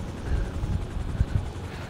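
A GTA 5 helicopter's rotor thumps in a rapid, steady beat at moderate distance, a low throbbing drone filling the short moment.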